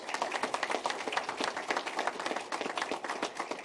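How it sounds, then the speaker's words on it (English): A room of people at a university athletics launch press conference giving a round of applause for a board, a dense, even patter of many hands clapping at moderate level with no talk over it. "So let's give our board a round of applause."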